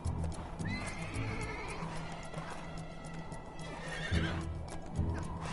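Horses in Lego Marvel Superheroes 2 whinny and neigh over a steady patter of clip-clopping hooves, several animals mixed together at moderate distance in a busy, continuous scene.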